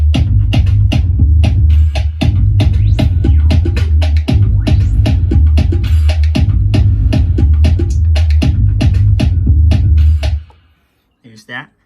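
Full beat at 116 BPM, a heavy bass line driving under punchy drums and layered parts, loud and continuous before cutting off abruptly near the end.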